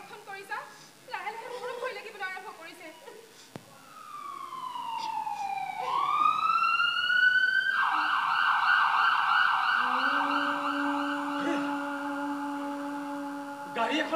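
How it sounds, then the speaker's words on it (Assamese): An ambulance siren wails with rising and sustained tones during a staged one-act play in Assam, growing louder and holding steady, with voices talking beforehand. "হয় এখন গাড়ীয়ে হয় এম্বুলেন্স"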